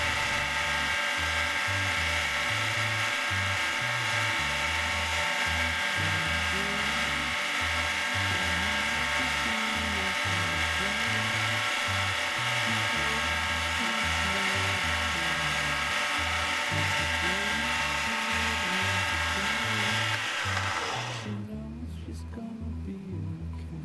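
A mini lathe spins continuously while aluminum is polished against a wood dowel, a close, steady high motor whine with a rhythmic low pulsing rumble for about twenty seconds, then the motor quiets near the end.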